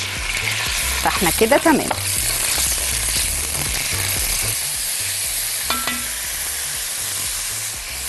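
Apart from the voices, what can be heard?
sizzling while frying chicken for broccoli soup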